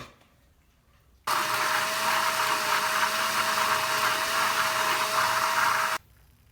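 A blender motor whirs loudly and steadily for several seconds, starting abruptly and cutting off just as suddenly, with quiet room tone before and after.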